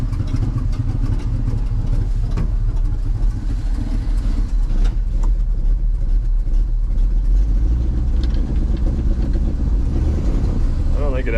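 A 1964 Chevy grain truck engine running, a steady deep rumble close by that carries on for the whole stretch, with some talk over it.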